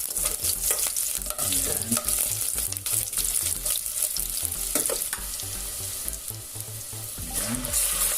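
Chopped onion sizzles and fries in a hot pan while being stirred, with continuous loud crackling broken by scraping spoon strokes; a voice speaks briefly in the kitchen.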